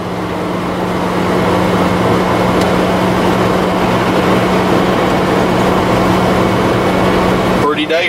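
A 1996 Coach House 192TB Class B gas camper van climbs a steep hill at about 50 mph, giving a steady, continuous road and engine drone with a constant low hum throughout.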